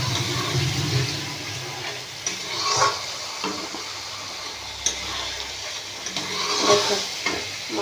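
Spice paste for a vegetarian sweet pumpkin ghanto frying in oil, a loud continuous sizzle with repeated scraping stirs of a spatula against the pan.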